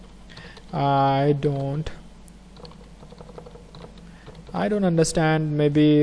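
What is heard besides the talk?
typing a comment on a computer keyboard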